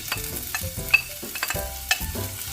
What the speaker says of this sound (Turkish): Soğanlarımı burada iyice karamelize olana kadar kavuracağım arkadaşlar.